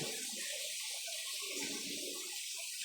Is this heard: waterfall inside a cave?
yes